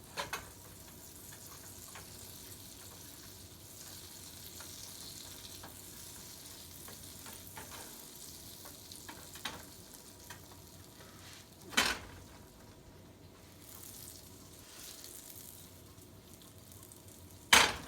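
Butter melting in a pan turned up to high heat while making green pancakes gives a steady, soft sizzle that runs throughout, with a few sharp clinks of a spatula or pan and a louder clatter near the end.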